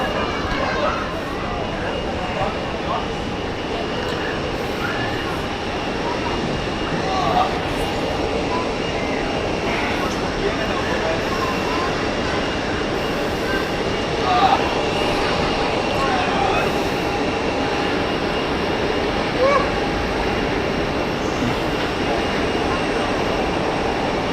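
A Swiss airliner from London Heathrow taxis at Zurich Airport on a hot day, a steady broad jet-engine roar and rumble filling the background while someone talks over it.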